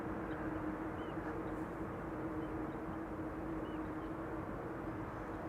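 An Airbus A330 rolls out after landing at Amsterdam Schiphol Airport without reverse thrust, heard as a faint, steady distant roar with a low hum that holds evenly the whole time.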